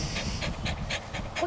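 A dog pants rapidly and close by, a steady run of short breathy huffs with no voices over it.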